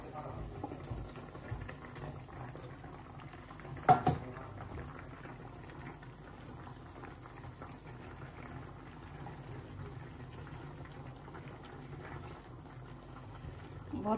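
Fish curry broth boils in a pot after fish is added, a steady low bubbling and simmering hiss heard up close, with a single knock early on and no letup.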